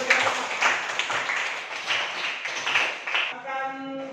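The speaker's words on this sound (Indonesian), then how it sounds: "tepuk tangan" A classroom of students claps hands together in a burst of rapid, overlapping claps for about three seconds, followed by a nearby voice speaking.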